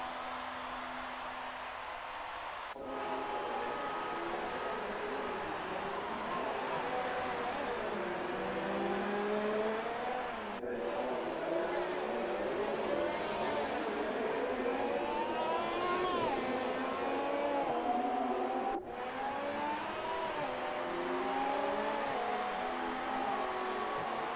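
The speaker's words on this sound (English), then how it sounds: "Just listening to that car, it sounds gorgeous." In the video game F1 2018, a Formula 1 car engine drones and revs continuously, pitch sliding up and down through gear changes, with faint talking underneath.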